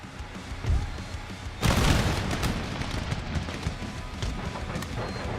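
Cannon artillery fire in the video game Total War: Empire, a heavy booming blast that breaks in over a busy battlefield din of musketry and clatter, followed by sustained rumbling battle noise.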